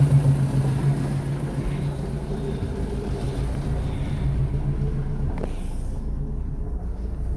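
A boat motor runs in reverse with a steady low rumble and engine drone, close by, ending with a brief click and a slight drop in hiss.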